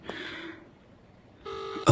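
A telephone call being placed, with a dialing or ringback tone sounding, going quiet, then sounding again, ending in a sharp louder click.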